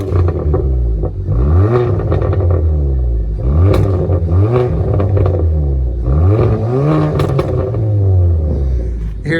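A 2020 Kia Forte GT with muffler and resonator delete exhaust revs repeatedly and loudly up close, each blip climbing and falling back, with a rumbling, crackly idle between revs.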